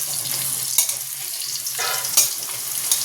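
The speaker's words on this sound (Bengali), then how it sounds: "এই আলু ভাজছি" Potatoes frying in a pan in a home kitchen, a loud steady sizzle with a few sharp stirring scrapes and knocks spaced across the clip.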